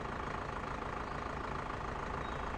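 A tractor engine in the farming game Farming Simulator 2015 runs at a steady idle, a continuous low rumble that stays even and unbroken throughout, with no voices over it.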